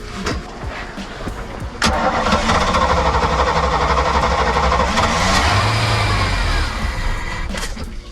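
A Sea Ray boat engine cranks and turns over on a different fuel tank, with a starter whirring that rises to a loud, rough running rumble for several seconds, then fades back toward cranking.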